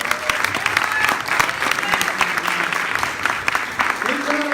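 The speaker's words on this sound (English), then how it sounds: "Please round of applause to Senator Scott Wiener" Rally crowd applauding Senator Scott Wiener, a dense wash of clapping that holds steady throughout with voices mixed in underneath.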